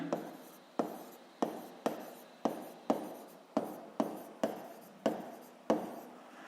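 An equation is written out by hand in a series of about nine short, sharp strokes, each with a quick scratchy fade, coming at a steady, even pace.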